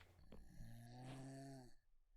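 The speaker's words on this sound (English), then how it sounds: "Snoring." A Minecraft character snores in a single drawn-out breath lasting over a second, with a low rumbling tone and a fainter rising whine above it, heard close and alone.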